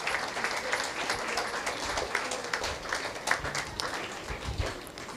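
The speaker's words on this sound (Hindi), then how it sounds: "Everyone big round of applaud for Rana madam." A dense, steady wash of audience applause fills a school Independence Day prize-distribution function, many hands clapping at once for several seconds, with faint voices mixed underneath.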